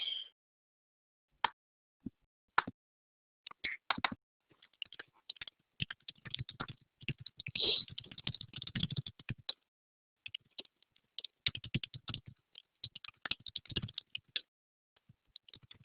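Typing on a computer keyboard, heard as bursts of quick, close clicking keystrokes with short pauses between runs, no voices.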